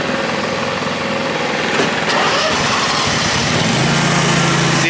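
An Exmark Viking V-Ride standard lawn mower engine runs close by with a loud, steady high-pitched drone, its tone shifting slightly as it revs, with no voices.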